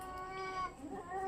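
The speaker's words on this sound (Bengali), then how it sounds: "এটা হলো বিড়ালদের ঝগড়ার আওয়াজ।" Cats yowl in a drawn-out, wavering fight cry that rises and falls, fairly faint and distant against a quiet background.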